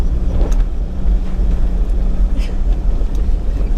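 A vehicle drives along a rough mountain river track in Alpine National Park, Victoria, its steady low engine rumble and rolling tyre noise filling the whole stretch without a break, close and fairly loud.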